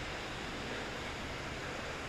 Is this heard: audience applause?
no